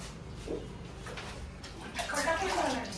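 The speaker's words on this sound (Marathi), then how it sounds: "चालू कर त्याला एवढं पाणी." Water runs and splashes into a tub, swelling louder toward the end, while people talk over it.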